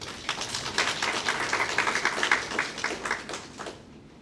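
An audience at a Special Constables police graduation ceremony applauds. The clapping is dense but fairly quiet and somewhat distant, holding steady for about four seconds before it fades.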